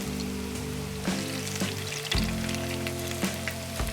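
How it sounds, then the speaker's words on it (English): Plantain slices fry in hot oil with a steady bubbling sizzle, close and even, broken by a few soft clicks and knocks, and no talking. "I'm going to let the plantain fry in the oil to get a light golden brown color"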